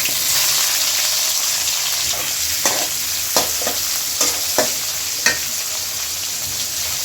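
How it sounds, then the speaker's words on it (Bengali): Chopped onions frying in hot oil with cloves, cinnamon and cardamom for pork khichuri, a steady close sizzle throughout with a few sharp clicks of stirring. "পেঁয়াজ তেলে ভেজে নিয়েছি"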